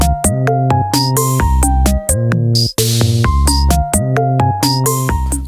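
Plinky, bright synth notes from a Roland MC-101 groovebox play a steady repeating pattern, loud and alone with no voice, with a brief gap of near silence near the middle.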